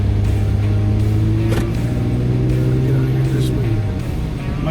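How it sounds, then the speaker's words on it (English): A Jeep-style vehicle called Defiant, newly fitted with a suspension kit, adjusted control arms and a fresh alignment, drives on the road during a test drive. A steady loud engine rumble with gear-change shifts runs close throughout. "let's get on the road, and we're going to test drive Defiant with the suspension kit on there"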